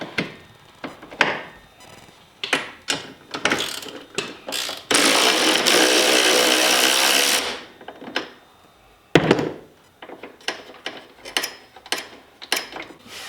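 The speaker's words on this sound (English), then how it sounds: "And I don't think you have to take these bolts out all the way" Bolts are loosened on a Maverick X3 rack with a ratchet wrench, giving rapid clicking bursts, a sustained grinding run of a few seconds in the middle, then more ratcheting clicks, all close and loud.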